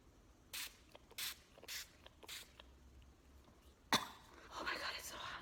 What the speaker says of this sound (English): so this is a misting spray